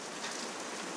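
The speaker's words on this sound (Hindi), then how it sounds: "और बारिश देखो कितनी हो रही है" Heavy summer rain pours steadily in a dense, continuous hiss, loud and close, with no voices over it.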